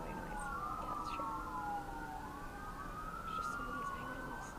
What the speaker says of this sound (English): There's just so many sirens.